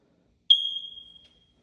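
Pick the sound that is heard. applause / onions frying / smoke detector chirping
smoke detector chirping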